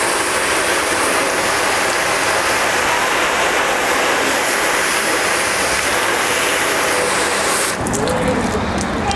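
A hose sprays water onto a car to rinse off residue, a loud, constant rushing hiss of water hitting the paint that runs steadily and stops abruptly near the end.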